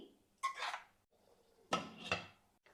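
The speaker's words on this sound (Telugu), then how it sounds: "ఇప్పుడు ఈ కర్రీని ఒక్కసారి అలా బాగా కలిపేసి మూత పెట్టేసుకుందాం" A spoon scrapes and clanks around a pot of prawn curry in two bursts, then a metal lid knocks down onto the pot, close and fairly quiet with no talk.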